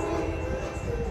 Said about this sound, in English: here comes Amtrak 729 Capital Corridor train